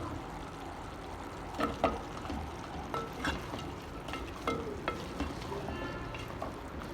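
Potatoes added to potato beef keema frying in a pan, giving a continuous soft sizzle with scattered stirring clinks and scrapes throughout, with no talk.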